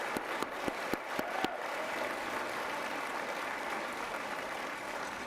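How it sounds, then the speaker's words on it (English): Audience applause at a disability services gala opens with a few sharp, separate claps and then settles into a steady, fairly distant wash of clapping that goes on to the end. "Let's give everyone, truly yourselves, everyone here a round of applause."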